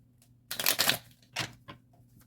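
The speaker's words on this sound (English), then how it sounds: "Now, I'm shuffling for what's coming up within the next few months." Tarot cards are shuffled close up in two short riffling bursts, the first longer and louder, followed by a brief softer flick.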